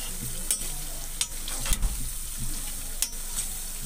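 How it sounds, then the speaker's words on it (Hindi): Peri peri potato bites fry in a pan over a medium flame, giving a continuous crackling sizzle with several sharp pops and a scraping stir near the middle. "अच्छे से हम इसको फ्राई होने देंगे।"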